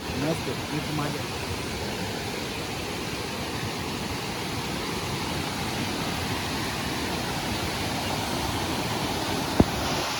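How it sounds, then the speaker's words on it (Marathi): Strong, steady rush of a river in flood after heavy rain in the Konkan, a continuous broadband roar without a break. "नदीला फ्लो बघा किती आहे"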